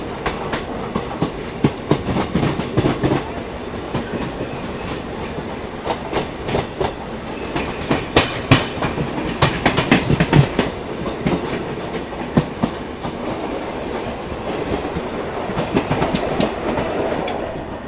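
An ICF coach of the Garib Rath Express rolls slowly through Hapur Junction with loud, close rhythmic clickety-clack from the wheels on the track joints over a continuous rumble, and no talking.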